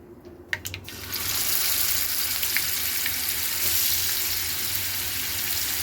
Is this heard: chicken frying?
yes